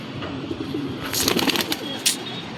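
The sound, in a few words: pigeons cooing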